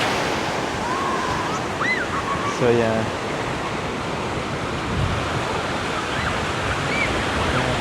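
Ocean waves wash steadily in a calm lagoon sheltered by a reef, a broad continuous surf noise with wind on the microphone, while a person speaks briefly over it.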